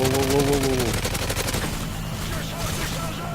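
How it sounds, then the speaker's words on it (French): Gunfire in Call of Duty: Modern Warfare 3, a rapid burst of automatic shots rattling at an even rhythm for over a second, then fading into scattered echoing reports and rumble. "Sinon, du coup, on tire sur le même."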